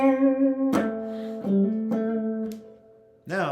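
An expressive electric guitar lick with bent and sliding notes and a few sharp picked attacks, played close and alone, ending on a quick rising bend.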